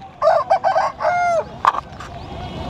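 Country roosters at a chicken market in Gudur, with a rooster crowing loudly in a couple of stretched phrases, then a sharp squawk, over steady crowd and market noise.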